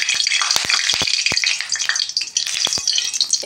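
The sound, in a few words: fish frying in hot oil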